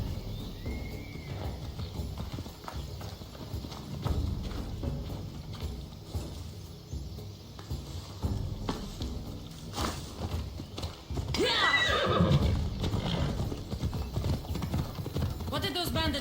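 A horse galloping in the video game Assassin's Creed Odyssey, steady hoofbeats with a neigh, mixed under game voices and music, growing louder toward the end.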